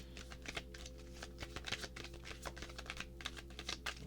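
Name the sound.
shuffling a Moonology oracle card deck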